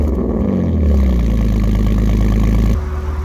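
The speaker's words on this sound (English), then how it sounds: "as you can hear, the engine is now all done and running really good" A freshly finished Alfa Romeo 147 GTA engine idles steadily, loud and close, with a deep even rumble that shifts slightly near the end.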